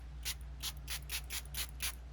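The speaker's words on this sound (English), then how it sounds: "I'm going to take my spray bottle" Several quick hissing spritzes from a water spray bottle misting over a painting, seven short bursts in an even rhythm, close and fairly quiet over a low steady hum.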